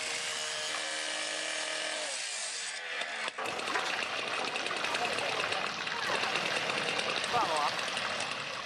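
Rasping strokes of a saw cutting through a pipe, a scraping, gritty texture that follows a tonal hum and continues steadily to the end.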